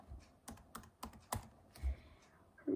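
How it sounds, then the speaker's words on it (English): Keys tapped on a computer keyboard while a password is typed during a Windows Vista setup in VirtualBox, giving a few separate close clicks with short gaps and a soft thump near the end. "Type a password."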